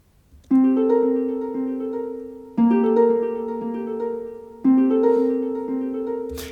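Orchestral harp notes played in Logic Pro with a ping pong stereo delay, three bright plucked phrases ringing out and echoing in a steady pattern, clear and alone.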